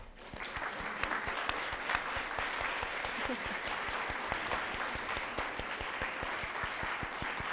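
A large audience at an Ohio University faculty gala claps continuously and evenly, a dense roomful of applause that holds steady without letup.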